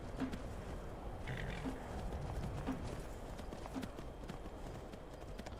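Horse hooves clip-clopping in the video game Skyrim, a steady rhythmic series of soft thuds at moderate distance over a constant ambient bed.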